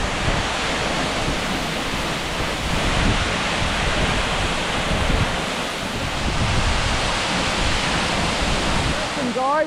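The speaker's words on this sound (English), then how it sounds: "What a waterfall!" A waterfall roars in a broad, continuous rush of water, loud and steady, with some wind buffeting the microphone outdoors.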